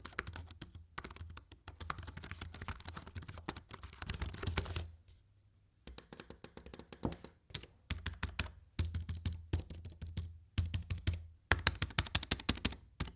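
Rapid typing on a portable foldable Mac keyboard with ABS plastic keycaps on scissor switches and a lightweight plastic case, a dense run of soft clicks and taps close up, broken by brief pauses, with no voices.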